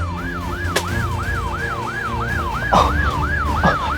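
A police siren wails in a fast, regular up-and-down sweep, loud and steady, with a couple of sharp knocks breaking through.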